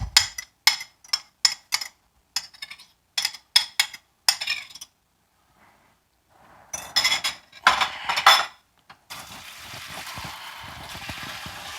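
Batter for chicken cakes scraped and dumped from a bowl into a pot, a run of sharp metallic clinks and taps of a utensil against the bowl, a pause, more scraping knocks, then a running water rinse.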